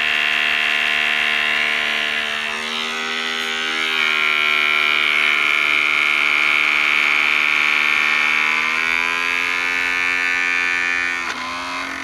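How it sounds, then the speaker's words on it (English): On a spinning magnet boat, a loose motor gives a loud, continuous electric whine and buzz with a shifting pitch and slight wavering, ending in a brief dip near the close, with no voices. "Motor's coming loose, I think."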